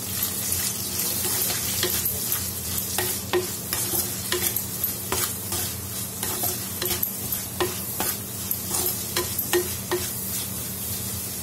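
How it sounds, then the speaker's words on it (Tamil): Onions sizzle steadily in a pan with salt added while a utensil scrapes and stirs in repeated short strokes, no voices. "போட்டு நல்லா வதக்கி விட்டுறலாம்."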